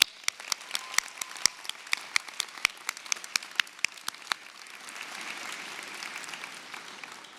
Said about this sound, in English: Can we please get a round of applause as a thank you for his hard work?